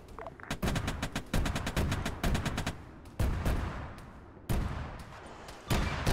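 Rapid bursts from the Ajax vehicle gun in ArmA3 OPTRE, close and loud, firing in quick repeated volleys with short pauses and several heavy single shots that echo away.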